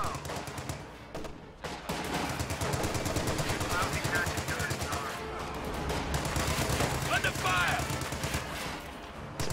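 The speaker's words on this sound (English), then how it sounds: "Suppressing fire will suppress those overs before they can really do anything." Suppressing machine gun fire crackles in steady rattling bursts during a real-time strategy battle, layered with distant shots and thuds under continuous commentary.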